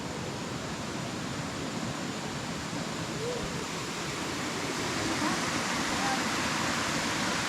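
Water rushes steadily at the Periquito waterfall near Presidente Figueiredo, Amazonas, a continuous broadband roar of a small fall and flowing stream, with faint voices.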